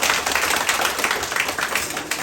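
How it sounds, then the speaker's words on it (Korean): Steady applause from a crowd at a poetry forum, dense clapping filling the whole moment at an even level. "박수 한번"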